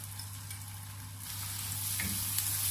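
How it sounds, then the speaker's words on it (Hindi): Garlic sizzles in hot butter, a continuous crackling hiss that swells slightly louder partway through, close and without speech. "चॉप किया हुआ लहसुन शामिल कर देंगे।"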